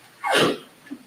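A single sneeze in a quiet courtroom, a sharp burst of breath with a short follow-up sound, close and clear.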